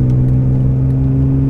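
A Renault Clio driving and cornering on a track gives off a loud, steady engine drone with little change in pitch across the short stretch.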